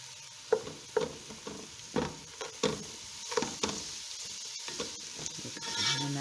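Chopped onion softens in a pan with a low, soft sizzle, punctuated by a series of distinct spatula stirs and scrapes at an uneven rhythm, fairly quiet and close.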